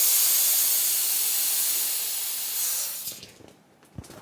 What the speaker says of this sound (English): now just inflate until all the wrinkles have gone out of the side of your balloon